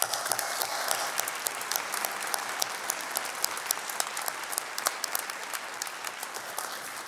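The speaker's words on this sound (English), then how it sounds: "Round of applause." Steady audience applause fills a graduation commencement ceremony as top-ranked graduates are recognized, dense and continuous with sharp individual claps throughout, moderately distant and loud, with no talking over it.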